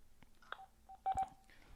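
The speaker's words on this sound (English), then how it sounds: "All right, so we got Michael on the phone." Telephone keypad tones place a call: a quick series of short, distinct DTMF beeps at irregular spacing, fairly faint, with a brief louder pair near the end and no voices.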